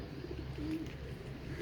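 Old Rampuri pigeons in a breeding loft give a soft, low cooing that swells once near the middle, faint against a steady background hum.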